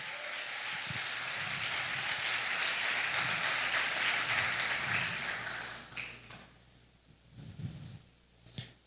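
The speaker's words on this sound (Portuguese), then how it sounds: "Pode aplaudir o Senhor Jesus." A church congregation applauds for about six seconds as a dense, steady wash of clapping, then it thins into scattered claps with brief sounds after.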